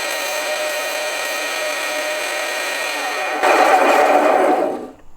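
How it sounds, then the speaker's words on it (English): A belt sander runs with a steady high whine, then grinds louder and rougher as a small wooden cigar box guitar bridge is rolled against the belt, before the motor winds down at the end. "I grab the little bridge like this and I kind of roll it on the belt sander like that"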